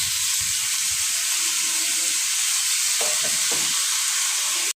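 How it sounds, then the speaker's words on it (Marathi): Tomatoes and moth beans are sautéed with potato in a pan, giving a steady broadband sizzle with a few scraping stirs in the middle and no voices over it. "टमाट हे आपण परतून घेऊया थोडं आणि मटके टाकू"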